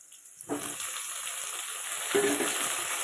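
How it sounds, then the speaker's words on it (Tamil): Onion, garlic and tomato sautéing for a fish curry: the sizzle starts abruptly, runs as a steady close hiss, and then swells louder as more goes into the pan. "வெங்காயம் பூண்டு கொஞ்சம் வதங்கிடுச்சா வதங்கவும் இந்த தக்காளி போடுங்க"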